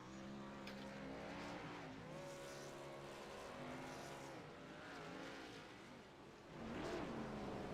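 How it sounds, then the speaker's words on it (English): Race cars doing victory burnouts at Mid-Ohio in the ANZCAR Thunder series: loud, sustained engine roar with shifting revs and tyre squeal, swelling louder near the end. "Victory burnouts."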